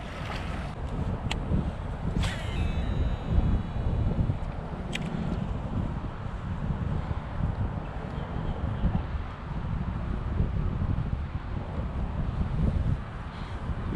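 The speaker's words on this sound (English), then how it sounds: "That wind kicked up something bad." Wind blowing across a lake at Markham Park in South Florida while fishing, a constant rough rumble buffeting the microphone for the whole stretch, with a few faint clicks and no talking.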